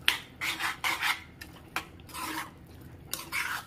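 A spoon scraping and stirring food around in a metal pot, repeated rough rubbing strokes at close range with short pauses and a few light clinks of metal.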